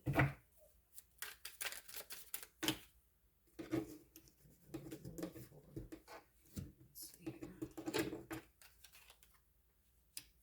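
Tarot cards shuffled by hand in a quiet room, giving repeated soft riffling bursts and flicks, some sharp taps, with short gaps in between.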